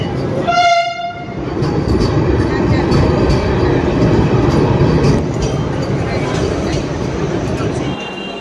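A passenger train pulls into a platform at Bhopal station, opening with a loud horn blast followed by a sustained, close rumble of wheels and rolling cars as it arrives; a voice speaks briefly over the noise.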